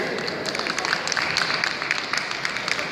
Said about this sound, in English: Big round of applause to our next speaker.